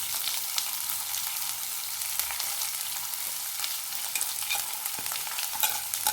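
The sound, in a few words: frying garlic and onion in a pan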